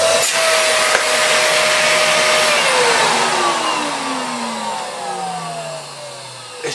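Household vacuum cleaner motor spinning down after switch-off, its high whine sliding steadily lower in pitch with an odd, uneven tone as the roar fades over several seconds.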